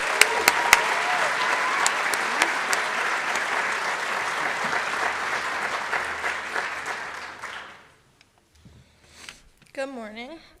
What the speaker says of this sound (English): please give it up for Regan Greenwood and the SJA cheer team